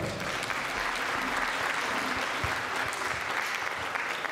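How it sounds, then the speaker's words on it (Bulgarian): Steady applause from an audience at a 25th-anniversary celebration, given for the vocal group Zornitsa, moderately loud and continuous with no pauses. "Заслужени аплодисменти за вокална група Зорница."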